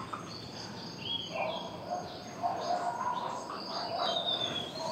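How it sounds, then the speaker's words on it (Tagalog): Many large birds call around a roosting site near water, with scattered chirps and squawks of varying pitch rising and overlapping at a moderate distance over a soft background hiss. "Ang daming ibon na malalaki."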